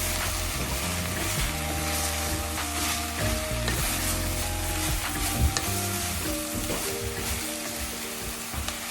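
Homemade roasted coriander and cumin powder sizzles and fries steadily in a hot pan, with stirring scrapes and a continuous crackling hiss throughout and no voices.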